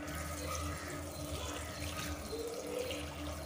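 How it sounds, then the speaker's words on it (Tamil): Water poured into a cooking pan while preparing a mutton intestine fry, a steady continuous stream at moderate distance with a low hum underneath, running throughout without pause. "இப்போ தேவையான அளவு தண்ணி ஊற்றிக்கோங்க"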